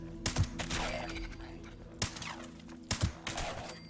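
Gunfire from the Two Shot Combat Rifle in Fallout 76, three loud, sharp shots spaced about a second apart, each with a ringing tail and layered impact noise.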